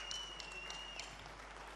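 A beauty pageant audience applauds at the 2018 Star Hellas Miss Hellas show, a faint, distant, steady patter of many hands with a thin high tone running through it.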